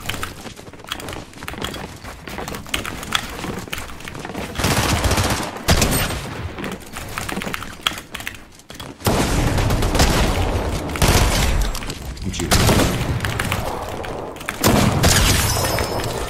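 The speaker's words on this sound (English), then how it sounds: "Why are you shooting me?" Gunfire in a Fortnite match comes in repeated bursts of loud, sharp shots separated by brief pauses, with crashing impacts mixed in throughout.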